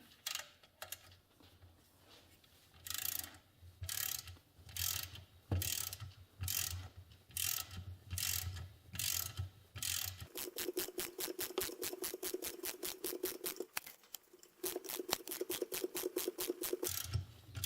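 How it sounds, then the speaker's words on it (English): A long-handled ratchet clicks in repeated bursts while tightening a nut that draws a swing arm bushing into place, the pawl chatter close and crisp, with a steadier fast ratcheting run later and a faint whine underneath. "So I'm using a long-handled ratchet here."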